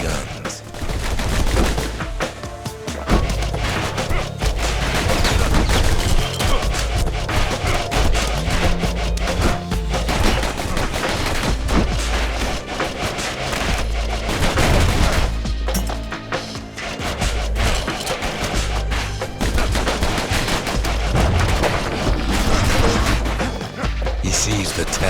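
The Ura's big guns in the video game Bastion fire in dense, continuous volleys, loud booming and crashing impacts with clattering hits layered under a narrator's voice.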